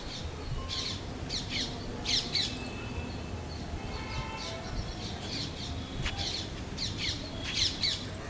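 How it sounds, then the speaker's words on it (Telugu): Small birds squawk and chirp in bursts among the plants of a sunny rooftop terrace garden in summer, several calls repeating close by over a steady outdoor background hiss. "సంతోషంగా ఎలా కిలకిలా రావాలు చేస్తున్నాయో."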